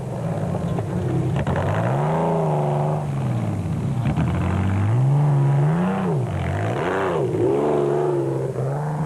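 A Toyota Hilux rally truck competing in the 2006 Limpopo 400 rally drives past, its engine loud and close as it revs up and down repeatedly in rising and falling sweeps with steady roar throughout, no voices.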